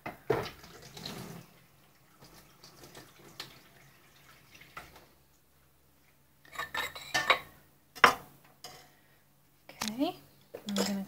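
Milk and yoghurt whisked together in a container for homemade yoghurt: a few short bursts of clinking, scraping strokes near the end, after a quiet stretch of faint kitchen clatter.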